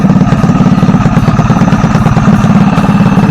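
An old-school VW truck engine idles loud and close at a car show, a deep, steady pulsing rumble with a fast regular beat.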